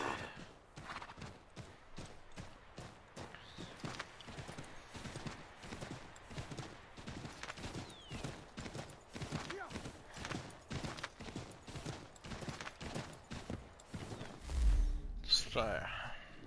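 Horse hooves in the Assassin's Creed 3 video game, a steady, rapid clip-clop rhythm continuing throughout at moderate level, with a faint neigh and other game sounds mixed in.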